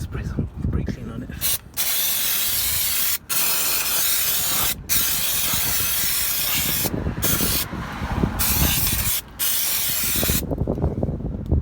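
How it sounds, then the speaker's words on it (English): Long, steady hissing bursts of an aerosol brake cleaner can sprayed on an oily spot of a Vauxhall Corsa 1.4, broken by a few short pauses, loud and close with faint clinking in between. "I'm going to spray some brake cleaner on it."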